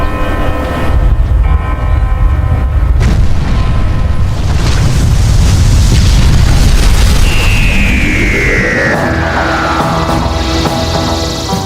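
A massive detonation from a Doctor Who scene, a loud sustained rumbling blast filling the whole stretch, with a rising whine emerging late in the roar.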